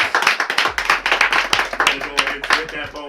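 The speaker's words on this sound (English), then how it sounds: "Another round of applause for the home." An audience at a poetry slam claps in a brisk, steady patter. A voice speaks over the applause through a loudspeaker.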